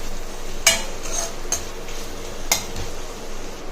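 Drumsticks and cowpeas are sautéed in a pan, giving a low steady sizzle. A spoon strikes the pan in four sharp metallic clinks while stirring, with no one talking.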